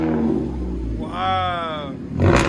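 A 2016 Ford Fusion SE four-cylinder with a Cherry Bomb glass pack exhaust revs once, rising and falling over a steady idle rumble, with a second short blip at the end.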